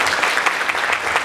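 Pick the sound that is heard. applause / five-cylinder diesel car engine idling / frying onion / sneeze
applause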